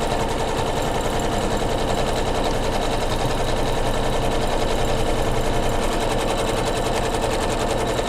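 An embroidery machine stitches down stabilizer in a hoop for a quilted flange pillow, a steady, loud, rapid needle chatter running without a break from start to finish, close up.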